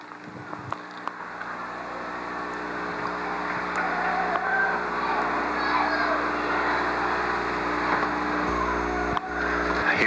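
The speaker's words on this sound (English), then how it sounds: "Tractor pulling the Beavertown Women's Club float" A tractor tows a women's club float carrying a large papier-mâché Liberty Bell in a 1976 bicentennial parade, its engine a steady low drone growing louder as it nears, with crowd chatter around it.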